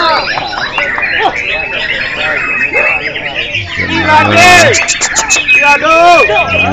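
Canaries singing at a songbird contest in Singkil, bright trilling and warbling bursts rising through a busy crowd hubbub, with people chattering close by.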